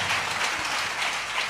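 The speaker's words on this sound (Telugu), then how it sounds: "చప్పట్లు కొడుతూ దేవునికి స్తోత్రం చెప్పడం" Church congregation at a special prayer meeting in Dharmajigudem clapping in praise, a steady, moderately loud wash of many hands with no distinct speech.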